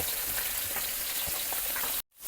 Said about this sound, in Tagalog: tuloy din ang aking prito na isda